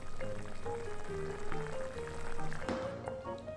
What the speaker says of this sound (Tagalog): Pabayaan lang muna natin itong kumulo.